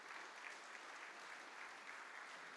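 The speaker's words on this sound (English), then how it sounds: "Can we just give Philip a big round of applause as well" A large conference audience gives a sustained, even round of applause for a man named Philip, a dense wash of many hands clapping at moderate distance with no talking.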